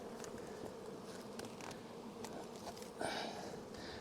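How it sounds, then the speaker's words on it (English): Honey bees buzz steadily and close throughout, a dense, continuous hum from a hive during a September honey harvest, with a large drone bee among them; the swarm sound swells slightly louder near the end. "there's a big drone bee"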